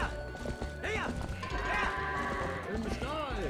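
Goat bleats and whinny-like cries rise and fall over a dull thudding soundscape in the video game Zelda: Twilight Princess, with a voice talking over them.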